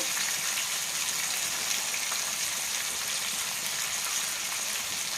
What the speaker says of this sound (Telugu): ఈ పేస్ట్ కూడా ఆయిల్లో బాగా ఫ్రై అవ్వాలి